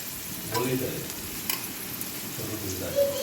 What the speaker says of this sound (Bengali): ভালো করে নাড়াচাড়া করে আমি গাজর বিনসটা ভেজে নিচ্ছি